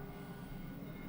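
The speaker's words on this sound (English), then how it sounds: "Here's the train." A train rumbles past in a city, a steady low, continuous roar with rolling rail noise that holds at an even level throughout, no voices over it.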